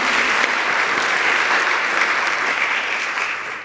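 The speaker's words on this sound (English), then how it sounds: "Please let's also give them a round of applause." A live audience at a museum talk on architecture applauds with steady, dense clapping that holds for a few seconds and then begins to fade, loud and close.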